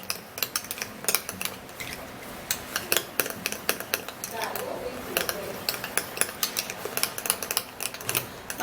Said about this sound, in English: So now we would have to give this a stir. Mix it really good.